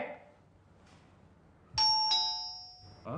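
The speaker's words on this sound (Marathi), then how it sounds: "अरे ही बेल नाही रे, फोनची नाही, ती दाराची बेल वाजली" A doorbell at the front door of a home gives a loud two-tone ding-dong, both chimes ringing out and decaying clearly after a quiet room pause, with a brief voice starting just as it fades.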